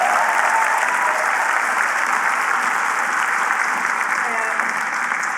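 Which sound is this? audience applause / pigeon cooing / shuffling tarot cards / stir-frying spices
audience applause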